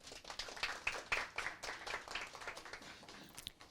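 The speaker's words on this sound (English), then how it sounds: "Can we have a round of applause, please?" An audience at a debate podcast event claps steadily for several seconds, a dense patter of many hands, moderately loud and fairly close, without speech.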